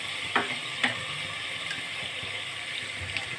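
Mutton with ginger garlic paste sizzles softly in a frying pan, a steady faint hiss broken by a few brief scraping stirs of the spoon.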